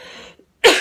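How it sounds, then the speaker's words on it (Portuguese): A single sharp cough bursts out near the end, loud and close, following a brief stretch of faint background hum and near silence. "Tossi, gente."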